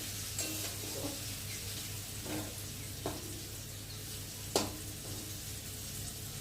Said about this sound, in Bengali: তো জল ফল কিছু দেবো না, তেলের মধ্যেই ভাজা হবে, যা হবার এই তেলের মধ্যেই হবে।